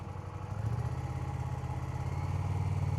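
A motorcycle engine running at low speed with the throttle held steady under load during riding practice, a close, continuous low rumble that firms up slightly after the first half second.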